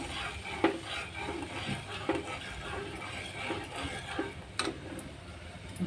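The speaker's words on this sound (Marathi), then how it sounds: "त्यामध्ये आपण हे दूध घालू. ते ढवळून घेऊ." Milk being stirred in a heated pan for jackfruit ice cream, with a spoon scraping and clinking against the pan at intervals over a low steady background, close and fairly quiet.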